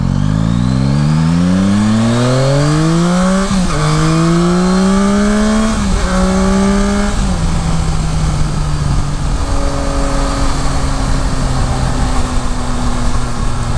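A 2021 Yamaha Tracer 9 GT motorcycle engine revs up through rising pitches, dropping briefly between gear shifts, then settles into a steady cruising hum, loud and close throughout with no speech.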